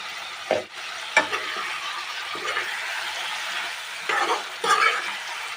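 Hariyali chicken fries gently in a covered pan over low heat, a quiet steady sizzle with a few louder bursts as the lid or spatula moves, close and without speech.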